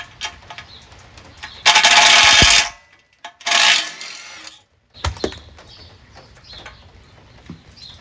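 Tools working on the muffler of a single-cylinder Briggs & Stratton lawn tractor engine: close clatter and scraping in two loud bursts, then quieter scattered knocks and handling noises.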